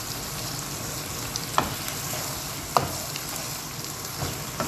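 Eggplant pieces fry with spices in a pan, giving a steady sizzle with a few sharp clicks of a utensil against the pan, heard up close with no talking.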